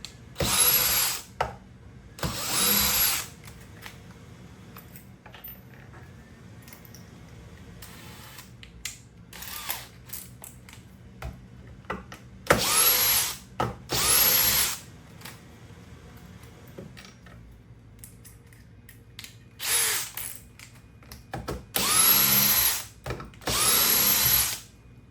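A cordless drill/driver whirs in a head-to-head speed test of eight drills, in a series of loud separate bursts of a second or two each, broken by quiet pauses.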